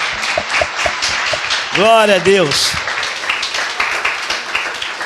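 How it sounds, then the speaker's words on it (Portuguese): A church congregation gives a round of applause during a worship service, a steady wash of clapping that runs beneath a voice speaking loudly throughout. "Vamos dar uma salva de palmas para Jesus?"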